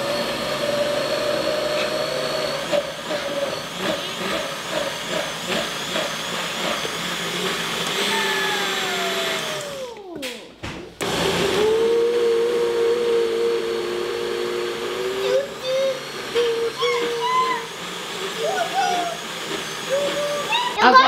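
A kitchen blender whirs steadily while beating carrot cake batter, loud and continuous, briefly cutting off midway before restarting, with a voice speaking over it at times.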